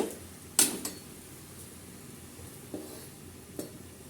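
Capsicum tossed into a hot pan for vegetable egg noodles, a sharp clatter and sizzle at the start followed by a few lighter spatula scrapes and clinks, close up and without voices.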